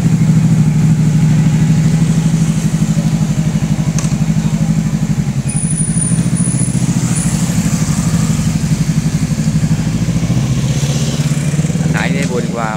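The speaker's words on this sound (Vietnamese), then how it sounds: "Mẫu máy lên là ầm ầm ầm ầm nha cả nhà." A motorcycle engine runs steadily and loudly up close, a constant low droning rumble throughout, with faint talk or background noise over it.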